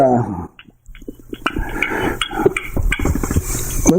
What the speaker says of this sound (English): you can hear them hammering away out there too